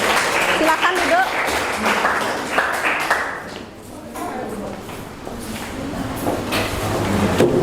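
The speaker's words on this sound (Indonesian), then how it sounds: "berikan tepuk tangan untuk kelompok ini" A crowd claps in broad, continuous applause that dips briefly midway and then swells again, with some voices mixed in.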